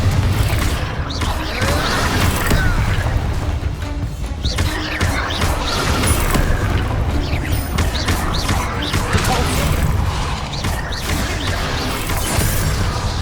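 Confringo blasting spells explode in Hogwarts Legacy, a dense loud stretch of crashing blasts, whooshes and impacts layered over game music, with a voice speaking through the din.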